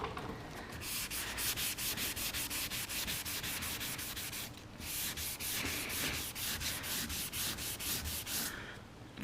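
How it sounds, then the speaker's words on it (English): Hand sanding of primer on a car body gives a steady, close, rasping scrub, with quick rhythmic back-and-forth strokes and a brief pause midway, and no voices over it. "That's what I'm sanding down till it's completely flat."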